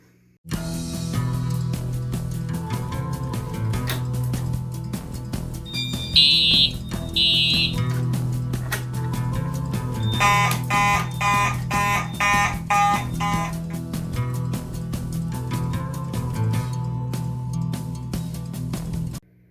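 A Simplex 4004 panel runs a fire alarm system test: loud continuous electronic alarm tones with steady pulsing horn patterns and brief higher chirps, filling the space for the whole stretch.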